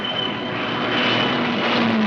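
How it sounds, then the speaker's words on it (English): Fighter planes fitted with extra fuel tanks taking off from Gibraltar during the Second World War, a steady, loud engine roar that holds throughout with a faint high whine, in an old wartime film recording. "fighter planes from Gibraltar, fitted with extra fuel tanks, took off"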